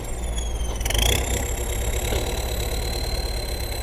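A modified Thai walk-behind tractor engine with a Kubota L4708-type setup and wet air filter chugs steadily nearby, a loud, rough knocking idle with a brief rev swell near the start and no talking.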